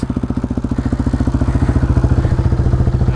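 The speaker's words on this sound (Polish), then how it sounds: "Zobacz, jak to się jeździ kładem" A quad bike (ATV) engine runs close by with a rapid, steady thumping beat that grows slightly louder, with no talk over it.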